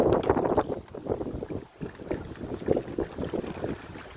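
Strong gusty headwind buffets the microphone over the steady churn of a fast-moving boat, loud and close with uneven surges.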